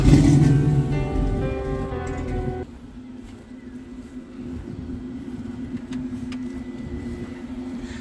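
A G-body Monte Carlo SS with a 6.2 engine revs loudly up close, then drops to a lower steady rumble as it settles into a drive.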